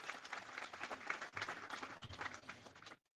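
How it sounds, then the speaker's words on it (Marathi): Crowd of devotees clapping and applauding at the Pimprala chariot festival in Pandharpur, a dense, sustained round of applause that carries on for about three seconds and then cuts off abruptly. "एकदम जोरदार टाळ्या होऊन जाऊ दे आपल्या सगळ्यांसाठी."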